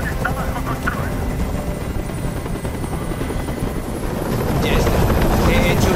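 A helicopter in the video game Detroit: Become Human thunders continuously with a loud, steady rotor roar that swells slightly toward the end, with voices speaking over it.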